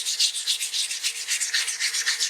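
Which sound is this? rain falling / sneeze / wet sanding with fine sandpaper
wet sanding with fine sandpaper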